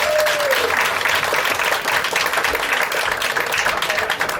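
A theater audience gives a performer a big round of applause, a dense, steady wash of many clapping hands with a brief voice over the start.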